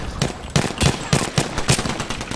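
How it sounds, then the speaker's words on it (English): Gunfire in the video game Apex Legends, a rapid, loud burst of repeated shots at a steady rhythm, close and punchy with no talking. "I hear shots."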